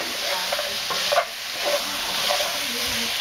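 Chinese spare ribs being stirred and coated in a hot pan, a loud continuous sizzle with soft, repeated scraping strokes throughout.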